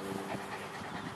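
A puppy pants rapidly and steadily close to the microphone in a brief, continuous burst of breathy huffs.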